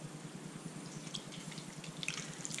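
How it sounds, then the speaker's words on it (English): Warm clarified butter poured slowly through a small sieve lined with kitchen roll, producing a faint, steady trickle and soft drips in a quiet kitchen, no talk. "slowly pour my clarified or semi-clarified butter in so the fat can drip through without all the milk solids going in"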